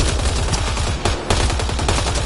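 Turret gunfire in the video game Mass Effect: Andromeda: loud, dense, rapid automatic bursts with a constant rattling rhythm and a brief pause midway, close and alone with no talk.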